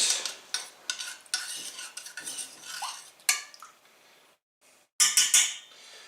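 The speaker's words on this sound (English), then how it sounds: "just pretty much a level teaspoon, and I just stir that in to my liquid" A level teaspoon of turmeric stirred into milk for golden milk, a spoon clinking and scraping against the cup in quick, uneven bursts, close and fairly quiet, with a brief pause before a final brighter clink.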